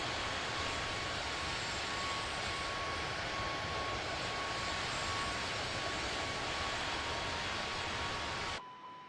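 Steady, loud roar of A320 airliner engines during a climb in Microsoft Flight Simulator, a continuous broadband rumble with a faint steady tone, cutting off abruptly at the end.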